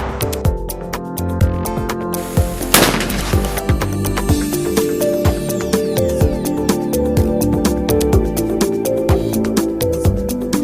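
Gunfire at an outdoor shooting range, a rapid irregular series of sharp loud cracks from several firearms, with one especially heavy blast early on and overlapping echoing reports throughout.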